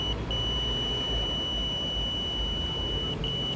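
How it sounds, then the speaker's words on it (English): A multimeter in continuity mode emits a steady, high-pitched electronic tone during phone and laptop repair work, holding almost unbroken with a brief dropout near the start and another near the end. "You can hear the beeping sound."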